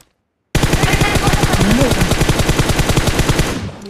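Rapid automatic gunfire from a video game rattles in a loud, steady burst of evenly spaced shots for about three seconds after a short silence.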